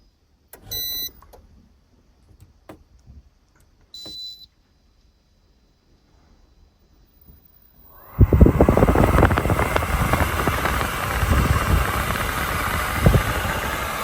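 A vehicle engine cranks over and catches after a quiet stretch with a few faint beeps, then settles into a loud, steady, close idle that runs to the end.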